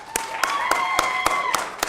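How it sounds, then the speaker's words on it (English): Applause breaks out at the Nasdaq closing bell ceremony: sharp, regularly spaced claps ring out near and loud over a faint tonal background, with no voices on top. "how about a nice round of applause to kick things off?"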